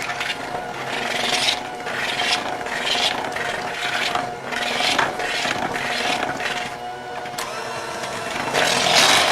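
An electric mixer beats whoopie pie filling with powdered sugar in a bowl, a steady rasping whir with rhythmic scraping surges as the beaters work the thick mixture, close and fairly loud.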